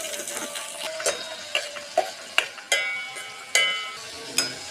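Onions sautéing in a pan for prawn biryani, a steady soft sizzle broken by sharp scraping and clicking strokes of a spoon against the pan.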